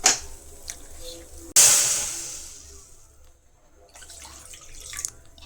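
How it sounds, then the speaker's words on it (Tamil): Water is poured from a measuring cup into a bowl for making flour dough at home, starting with a sudden loud gush that fades over a couple of seconds after a few small clinks. "இப்போ 1 கப்பு தண்ணி ஊற்றிட்டோன்னா இது 1/2 கப்புக்கான தண்ணி."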